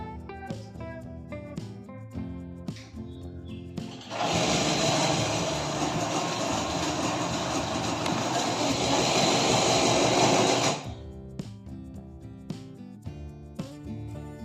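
An electric butter churning machine switches on, runs as a loud, even whirring roar for about six seconds and then stops, with quieter knocks and clinks before and after.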